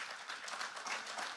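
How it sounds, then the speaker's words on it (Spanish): Church congregation applauding praise to the Lord during a Spanish-language sermon, a brief burst of dense, fairly faint clapping. "Dale un aplauso fuerte al Señor."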